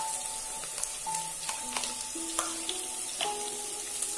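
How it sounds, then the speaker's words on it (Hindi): Onions and chopped ginger frying for pulao, a gentle steady sizzle close by with light stirring clicks and a faint tonal hum in the background, no one talking. "इसको थोड़ा सा गोल्डन ब्राउन होने तक फ्राई करेंगे।"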